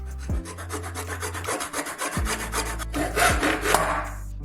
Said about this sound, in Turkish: Band çizgisini testere için kılavuz olarak kullanın.